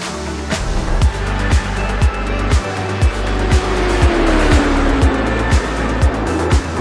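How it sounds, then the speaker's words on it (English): A race car blasts out of pit road under hard throttle, the engine loud and close with rapid repeated revs and gear shifts, plus brief tire squeal as it spins. "Coming out of the pits, Fendick hits the gas hard"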